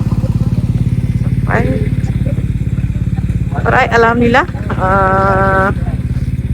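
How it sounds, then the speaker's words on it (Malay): Several motorbikes on a group ride idle steadily at a riverside breakfast stop in Kuala Kangsar, Perak, a loud continuous engine drone with a brief rev, while a rider speaks over it. "Kita ada 5 buah motor kat sini"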